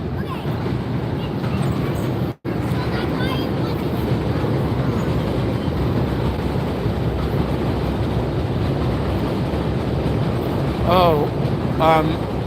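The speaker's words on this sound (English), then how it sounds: "Hold on guys, train again." A train rumbles past continuously, with a low steady roar and some rattling, and a few faint high squeals near the end.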